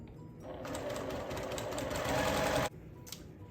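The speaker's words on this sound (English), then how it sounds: "stitch on the line and trim away" A sewing machine stitches a quilt block in one steady whirring run of about two seconds, close and clear, then stops abruptly.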